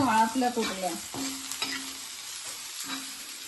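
Two onions roasting in a pan for a Malvani-style crab curry, a soft sizzle with scraping stirs and a few knocks from the utensil, close and fairly quiet.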